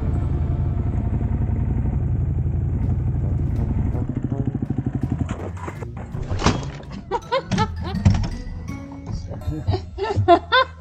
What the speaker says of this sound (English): but Chris had different ideas on how to park a motorcycle.